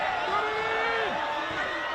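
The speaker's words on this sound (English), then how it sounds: "Crowd urging" Football crowd at the NPL Grand Final between Gold Coast Knights and Olympic FC urging an attack on, a broad steady roar of the stands with a voice talking over it.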